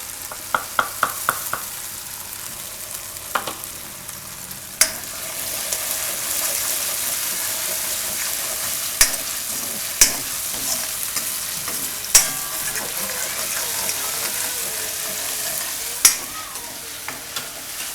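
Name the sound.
cumin tempering, stirring in hot oil in a kadai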